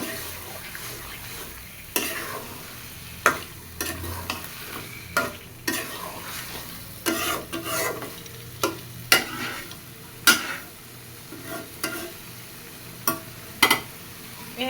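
Meat is sautéed and stirred in a pan on a stove, with a steady low sizzle broken by repeated sharp scraping strokes of a spoon against the metal at irregular intervals, close and moderately loud.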